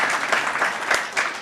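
An audience at a memorial service breaks into applause for an honoured guest: a dense, steady crowd clapping of moderate loudness through the whole short stretch, with no voices standing out.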